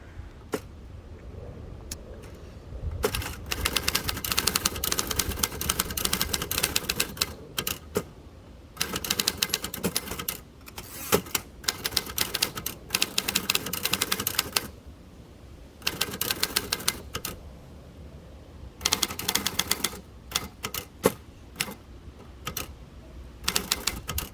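Someone types outdoors on a 1937 Royal O manual typewriter, with bursts of close, crisp key strikes and clacks separated by short pauses, over a faint outdoor background.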